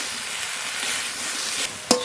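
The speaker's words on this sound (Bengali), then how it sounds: "শাকগুলো একটু নেড়ে নেড়ে কমিয়ে নেব" Spinach-type leafy greens, with salt and turmeric, are stirred in a pan as they wilt, making a close steady sizzle with soft rustling stirs and a sharp utensil clack near the end.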